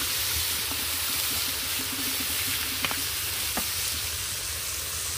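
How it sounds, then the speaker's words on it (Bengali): Fried pumpkin, potato and red lentils hiss and sizzle softly in a pan as water goes in, a steady low bubbling with a couple of faint clinks, no talk. "এবার কুমড়োটা আলুটা আমার সবটাই ভাজা হয়ে গেছে, সেই ডাল দিয়ে এবার আমি এর মধ্যে পরিমাণ মতন জল দিয়ে দিচ্ছি"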